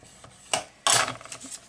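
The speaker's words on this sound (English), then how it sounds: "I'm going to start scoring a quarter of an inch at a quarter of an inch." Scoring tool pressing and dragging across small paper envelopes at quarter-inch spacing for a journal accordion element, a couple of brief close scraping strokes with a longer rub near the end, no speech.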